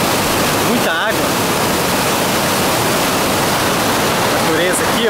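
Steady, loud roar of the waterfall at Usina da Fumaça in rural Itamuri, a dense unbroken rush of falling water; brief voices surface faintly under the noise.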